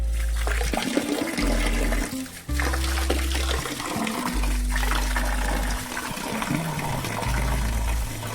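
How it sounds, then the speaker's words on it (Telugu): Water gushes forcefully from a homemade tank-cleaning pump, a loud, continuous splashing rush with a pulsing low rumble that cuts in and out repeatedly. "వాటర్ ఎంత ఫోర్స్ వస్తాయో చూపిస్తాను"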